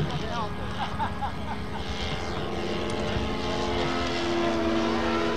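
A small propeller engine of a model airplane drones steadily as it flies past at a fun-fly event, growing slightly louder toward the end, with faint voices in the background.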